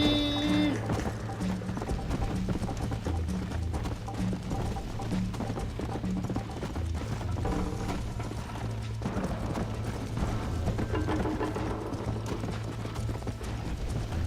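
Horse hooves clip-clop steadily in Red Dead Redemption, a loud, continuous galloping rhythm with rattling tack over a low rumble, no voices.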